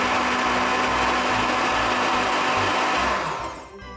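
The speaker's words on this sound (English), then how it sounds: "So I'm going to use the blender for this one. Pop them all in and then blend" A blender whirs steadily at high speed for a few seconds blending oranges, then winds down and cuts off near the end.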